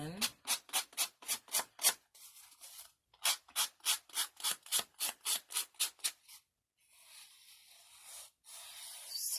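Rapid rhythmic rubbing strokes work ink onto the edges of a vintage-style paper craft tag, in two quick runs of a dozen or so close strokes, then a softer, steady scuffing.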